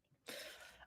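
A single sharp cough close to the mic, one short harsh burst that stops abruptly.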